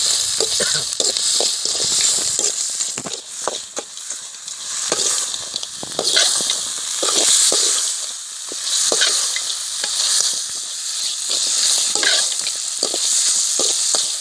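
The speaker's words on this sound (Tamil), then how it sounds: "இப்போ நம்ம நண்டை போட்டு அதில் வ வதக்கணும்" Crab sautéed with tomato in hot oil in an outdoor village kitchen makes a loud, continuous sizzle and frying crackle, with frequent scrapes and clacks from stirring throughout.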